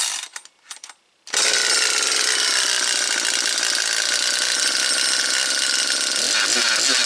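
Brand-new, bone-dry chainsaw with Auto-Tune on full choke: a few short sputtering pulls, then the engine catches and screams loudly and steadily at high revs until the end.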